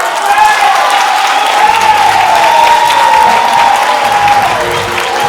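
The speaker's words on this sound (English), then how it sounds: "A big round of applause, thank you" Sustained, loud applause from an awards ceremony audience fills the whole stretch, a dense wash of clapping with some cheering mixed in.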